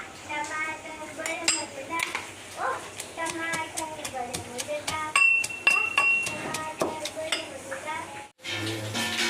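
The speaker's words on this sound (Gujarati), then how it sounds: "હવે લસણ અને મરચાંને આપણે ખાંડણીમાં નાખીને ખાંડી લઈશું થોડુંક નમક નાખીને" Garlic, chillies and salt are pounded in a mortar, giving a steady run of sharp, close knocking strikes with a few brief clinks, and a voice talks over the pounding.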